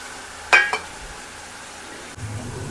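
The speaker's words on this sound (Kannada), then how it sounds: "ಇವಾಗ ಸಣ್ಣದಾಗ ಹಚ್ಚಿರೋ ಮೂಲಂಗಿ ಹಾಕೊಳ್ಳೋಣ" Finely chopped radish tips into a hot pan for a radish stir-fry: two sharp clattering hits land close together, then after a pause a steady low sizzle rises and keeps going.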